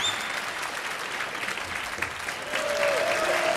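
Appreciative applause rises from the crowd at a World Pool Masters match in Kielce, a continuous wash of clapping that swells slightly toward the end.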